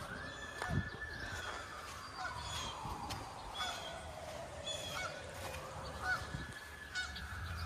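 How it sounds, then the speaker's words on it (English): Geese honk repeatedly from some distance in an outdoor setting where sirens are going off, their calls rising and falling in irregular bursts over a steady background hum. "there's a geese back there"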